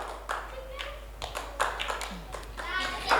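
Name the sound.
audience clapping hands in mosque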